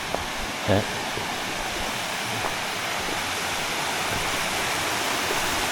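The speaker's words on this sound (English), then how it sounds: "This water's still coming out of here." Spring water flowing down the slope at Big Hill Springs, a constant rushing, splashing hiss close by that stays steady throughout, with a faint voice briefly audible beneath it.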